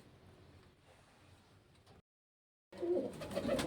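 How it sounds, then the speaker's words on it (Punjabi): Soft pigeon coos sound nearby in low, rounded calls, faint at first, then louder after a short silence. "ਇਹ ਸਾਰੇ ਵੱਡੇ ਕਬੂਤਰ ਆ"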